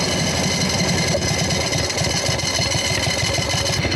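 Jockey-shift, foot-clutch motorcycle idling at a stop, a loud, close, steady engine with an even, lumpy pulsing beat throughout and no talk.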